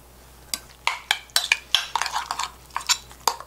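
Spoon clinks and scrapes in a bowl as seasoning is stirred into a mixture for a steamed duck egg dish, a quick series of sharp clattering strokes, close and alone.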